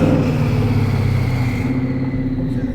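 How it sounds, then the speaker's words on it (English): A 2024 Ford F-150 with twin turbos accelerates with a steady, droning engine roar and a faint high whistle sitting above it, fairly loud and close, with no voices. "but the turbos you can hear the whistle"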